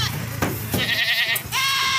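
A Makki Chini goat at a livestock sale lets out a couple of short, nasal bleats close by, with faint background noise between the cries.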